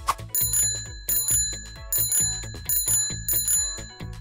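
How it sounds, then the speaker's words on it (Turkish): A bicycle bell rings repeatedly in quick bursts, about five bright metallic trills in a steady rhythm, close and clear with no voices. "Evet, zilin sesini duydum."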